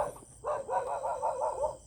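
A dog barks in a quick run of six or seven close, fairly loud yaps after a brief pause, with no talk over it.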